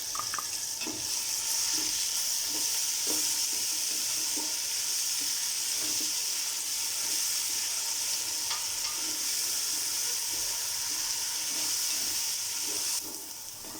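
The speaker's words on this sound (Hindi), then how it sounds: "अब हम इसमें शामिल करेंगे 2 टेबल स्पून भर के अदरक लहसुन का पेस्ट" Continuous sizzle of ginger garlic paste and onions frying in a pan, with intermittent stirring and scraping taps throughout; no voices.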